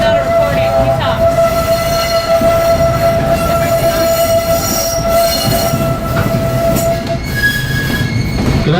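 Mesaba Railway trolley running on rails at the Ironworld Minnesota Discovery Center: loud, close rumble of wheels with a long high squeal from the rails and clanking, plus faint background chatter from passengers.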